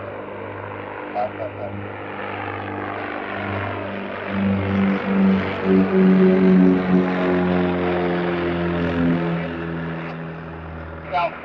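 A propeller aircraft takes off from a runway at Centennial Airport, its droning engine and steady hum rising in the middle and holding throughout, with radio tower chatter heard over it.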